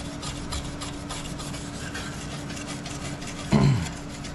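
Paint and rust are scrubbed off the metal of a vintage pole saw in steady, rasping strokes close by, with one louder scrape near the end.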